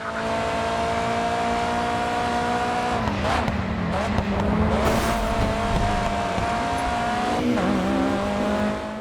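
A racing car in GRiD 2 holds a loud, continuous engine drone through aggressive cornering on a short track, with the pitch shifting and tire squeal rising around the middle.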